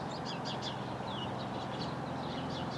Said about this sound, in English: The birds are behind me, all in these trees, going crazy